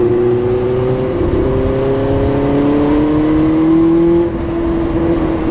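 A stock-exhaust 2020 Benelli 600i inline-four motorcycle engine hums steadily at a loud, close idle-to-rev level, its pitch climbing smoothly and then easing slightly near the end.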